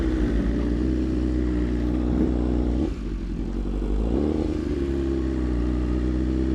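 A BMW S1000RR and a Kawasaki ZX10 ride together, giving a steady loud low engine drone with rumbling road and wind noise, a brief dip in the middle, then the drone resumes.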